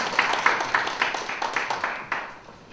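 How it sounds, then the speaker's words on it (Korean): Audience at a Korean teacher-education society conference claps to welcome a keynote speaker, giving a moderately faint, fairly regular run of claps that thins and fades toward the end. "박수로 맞이해 주십시오."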